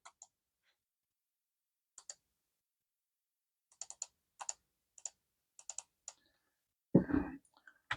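Computer keyboard typed on in short clusters of crisp, close key clicks separated by silences, ending with a louder clattering burst of rustling or handling noise.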